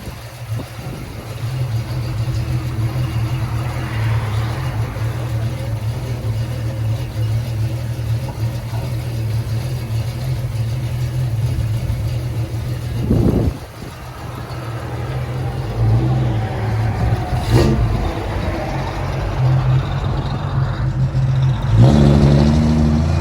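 A 1969 Ford Falcon inline-six with dual exhaust and Flowmaster Super 10 mufflers idles loudly and steadily, with a few throttle blips rising over the rumble and a sharper rev near the end.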